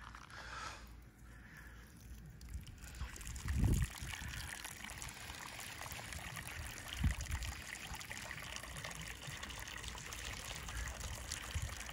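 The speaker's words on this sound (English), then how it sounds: "I'm gonna turn on some water now." Running water switched on at a home workspace, a soft steady trickle and stream under low background noise, with a brief thump early on.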